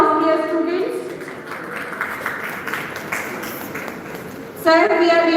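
Students applauding a chief guest in a college hall, a broad steady wash of clapping that fills the space, with voices talking over it at the start and end.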